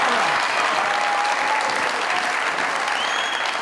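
Studio audience at a Hindi comedy talk show claps for a Pakistani guest actress, a loud, full burst of crowd applause that stays steady and dense throughout, with faint tonal sounds drifting underneath.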